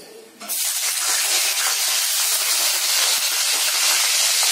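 Slit green chillies dropped into hot oil for mushroom masala, a sudden loud sizzling hiss that bursts in after a brief quiet moment and stays strong and steady to the end.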